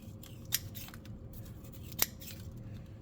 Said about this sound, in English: So what I'm going to do now is I'm going to cut the roots.